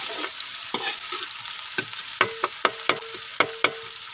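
Onions frying in hot oil in a pan for mutton liver masala, with a steady sizzle beneath a series of sharp, close clinks from stirring.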